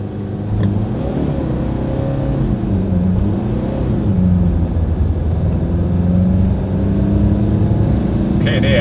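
A car accelerates hard on snow while the automatic gearbox upshifts, its engine drone rising and dipping in pitch under continuous talk inside the cabin.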